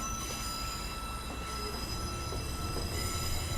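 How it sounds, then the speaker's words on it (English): A diesel train slows under a brake application in the Train Simulator 2020 game, with a steady rumble of wheels on rail and faint squealing running continuously and alone throughout. "Set the brakes off, command a brake application, and just use that to gauge how quickly the brakes come on and how well the train slows down."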